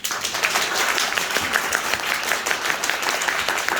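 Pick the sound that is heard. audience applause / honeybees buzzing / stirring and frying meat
audience applause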